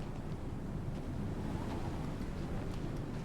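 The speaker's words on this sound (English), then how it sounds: "It's also really windy." Strong wind blowing across snow in the Star Citizen video game, a steady loud rushing roar with gusty buffeting and no voices.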